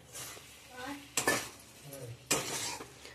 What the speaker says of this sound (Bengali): এখন এটা আমরা ভালো করে লাড়ে নিলাম।